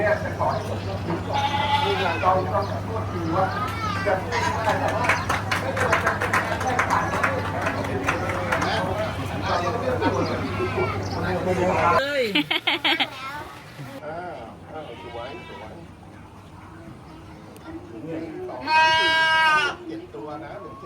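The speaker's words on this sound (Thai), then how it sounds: "ส่วนฝั่งนี้จะเป็น แพะสายพันธุ์นมนะครับ จะเป็นตัวผู้นะครับ" Male dairy goats bleat repeatedly at a goat show, several loud nearby calls rising over a busy crowd and steady background hum, with people talking throughout.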